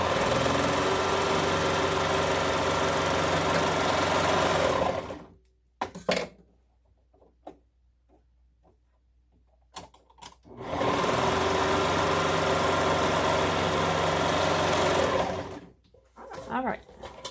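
A serger stitches the edges of a fabric face mask in two long loud bursts of dense, even whirring, separated by a quiet pause with faint handling clicks and rustles.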